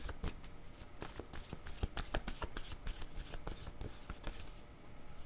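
Oracle cards shuffled and drawn by hand, a quiet, close run of rapid riffling flicks and soft slaps with a faint voice in the background.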